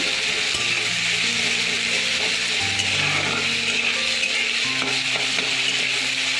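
Onion fries in a pan until browned for a simple cabbage dish, a constant loud sizzle with faint steady tones humming underneath.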